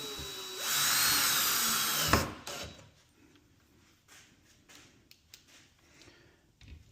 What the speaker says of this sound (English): So now that we know they're on straight, we'll put the other screws in.